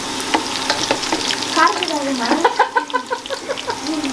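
Five slit green chillies frying in oil for a home-made chicken biryani, a close, crackling sizzle with stirring scrapes and bursts of popping, with voices faintly present.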